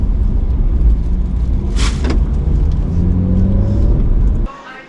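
A car's engine rumbles steadily from inside the vehicle as it drives, with a brief whooshing swell midway; the engine noise drops off abruptly near the end.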